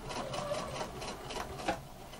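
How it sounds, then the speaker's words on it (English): A sewing machine stitches a flat fell seam along a folded seam allowance, running as a continuous whirring hum at a steady pace, close and unaccompanied by talk. "Just keep sewing, go as slow or as fast as you can"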